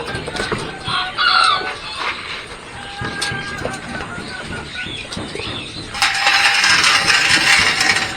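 Farm chickens clucking while being fed, with brief crowing-like calls and scattered feed rattling; a louder, denser burst of noise arrives near the end.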